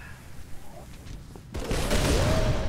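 A concussion rifle fires in the Halo Reach video game, a burst of blasts that swells loudly in the second half after quieter game ambience.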